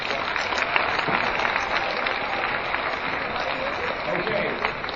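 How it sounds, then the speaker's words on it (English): Steady, dense applause from a school assembly audience honoring Air Force Junior ROTC cadets at a veterans assembly, a continuous wash of clapping with crowd noise that holds evenly throughout. "please give another round of applause to our cadet, our Air Force Junior ROTC at Henry Falls over here"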